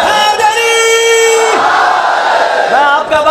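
Audience at a religious poetry gathering shouting slogans in unison, loud and close, sustained group chanting with voices rising and falling in waves.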